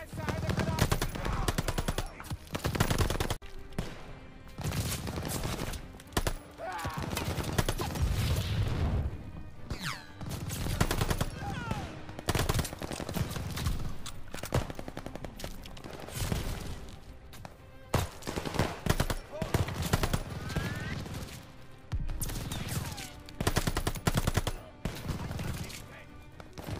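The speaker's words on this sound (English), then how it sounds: "Need to deal with that MG!" Machine gun fire in the World War II shooter Call of Duty: Vanguard: loud, sustained bursts of automatic fire and explosions repeat throughout amid battle noise, with soldiers' voices shouting between the volleys.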